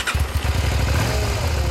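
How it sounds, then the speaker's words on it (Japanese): A 2009 Suzuki Gladius 400 motorcycle engine runs close by with a steady, deep, pulsing throb that holds even and loud throughout, with no talk over it. "オッケー、エンジン音聞かせて"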